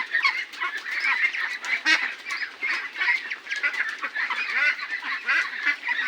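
A flock of farm ducks honking and quacking loudly and continuously at close range in a duck shed, many overlapping calls with no pauses and no voices.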